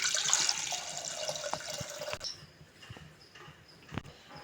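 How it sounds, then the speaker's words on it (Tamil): Water pours and splashes into a metal pressure cooker for about two seconds, then stops, followed by a few light clinks and taps. "குக்கரை வச்சுருக்கேன் அதில் தண்ணி ஊற்றுறேன்"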